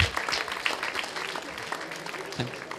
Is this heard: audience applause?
yes